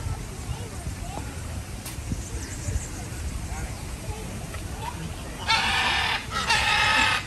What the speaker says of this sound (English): Other than this bird that's being tortured to death